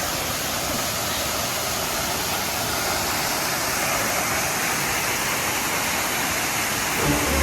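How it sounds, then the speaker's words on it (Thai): Tham Yai waterfall at Phu Kradueng in the rainy season roars as a steady, dense, loud rush of falling water, with no voices heard. "ก็ถึงแล้วนะครับผม น้ำตกถ้ำใหญ่"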